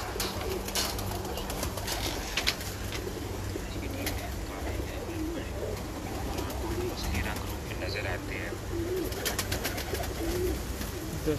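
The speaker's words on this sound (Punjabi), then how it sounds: "ਸਾਰੇ ਕਬੂਤਰ" Pigeons in a loft in Faisalabad cooing repeatedly, with scattered wing flaps and shuffling throughout and people talking faintly in the background.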